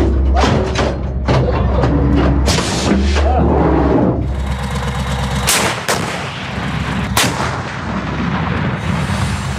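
A PzH 2000 self-propelled howitzer with a 155mm Rheinmetall barrel fires several heavy, booming rounds in fairly quick succession. The blasts are loud and close, and rumbling echoes follow each one.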